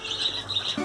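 White quails in an aviary give a brief high chirping call, a thin steady tweet close by and clear, with no talking.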